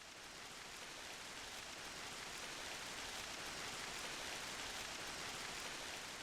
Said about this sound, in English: I woke to the sound of rain lashing against my window pane.